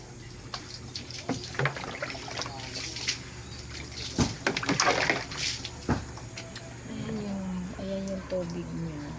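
Water splashing and running while a pet is bathed on a hot day, irregular splashes and trickling close by, with people talking over it.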